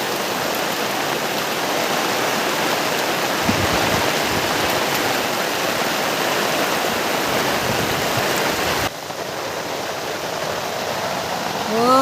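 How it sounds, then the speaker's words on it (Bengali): Heavy rain pours down outside a home kitchen as a steady, loud, broadband roar lasting throughout, with a slight drop in level near the end. "দারুণ বৃষ্টি এসেছে।"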